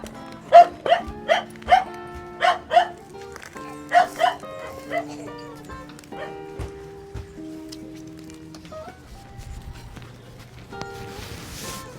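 A dog barks sharply several times in quick bursts, then pauses and barks twice more before fading, with a tonal melody playing underneath.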